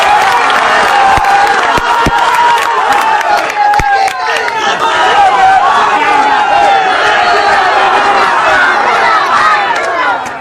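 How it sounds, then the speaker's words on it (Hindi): Young crowd at a rally in Azamgarh clapping and cheering loudly, a dense continuous roar of applause with shouting voices and a few sharper claps standing out near the start. "ये तालियां बज रही है"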